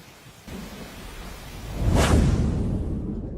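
Steady rainfall hisses over a city, then a deep thunder rumble swells in and rolls on loudly before slowly easing, with no voices present.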